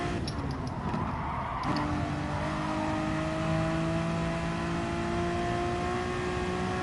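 Gran Turismo race car engine revving hard, a continuous loud whine whose harmonics climb steadily as the revs rise, with a brief shift-like change partway through and no talk over it.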